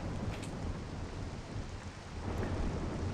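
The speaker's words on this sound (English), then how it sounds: "It's raining." Rain and rolling thunder in a video game world, a dense steady hiss of rainfall with a low rumbling thunder underneath, continuous and fairly soft, no speech.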